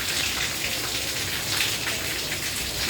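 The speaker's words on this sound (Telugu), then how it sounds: "సో ఫుల్ హెవీ అనమాట, హెవీ రెయిన్ఫాల్ వచ్చింది." Heavy rain pours steadily onto a household during a downpour long enough to soak clothes on the line and send water indoors, a dense, continuous hiss close by with no voices.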